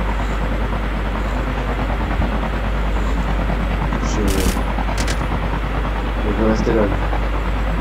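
Rumbling subway train in the Call of Duty Mobile game, a steady loud low roar throughout with a few sharp clanks and bursts, under a voice speaking French.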